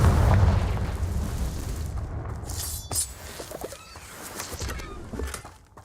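In the Hogwarts Legacy video game, a Confringo spell goes off as a deep booming explosion, followed by crackling bursts, shattering debris and scattered game effects fading out over several seconds.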